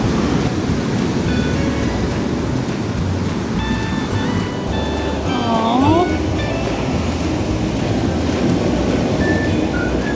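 Constant surf rushes and washes on a beach in Hikkaduwa, Sri Lanka, a steady broad roar with faint distant tones and voices drifting through.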